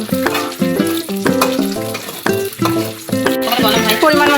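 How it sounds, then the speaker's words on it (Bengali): Green chili and garlic sizzle and crackle in hot oil in a pan for a spicy khichdi with goat meat, with steady frying hiss and stirring clinks throughout. "এবার লঙ্কা দিলাম, একটু ভেজে নিলাম। এরপর রসুন দিলাম,"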